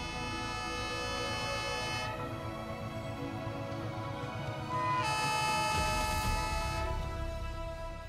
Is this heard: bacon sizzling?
no